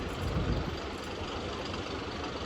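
A tractor engine idles at a Classic Green Reunion tractor show in 2023, a steady low rumble that runs loud and continuous from start to end with no pauses.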